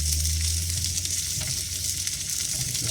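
Venison steak and bone marrow sizzle steadily in a skillet, a close, dense, continuous frying hiss with no voices.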